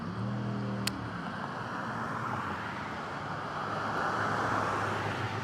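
Steady roar of cars passing along a busy street, a continuous broadband wash of tyre and engine noise with one brief sharp click near the start.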